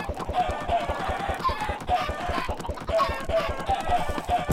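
Minecraft chickens clucking inside the video game, giving a steady stream of clucks and squawks over a busy, rhythmic game background, close and moderately loud, with no speech.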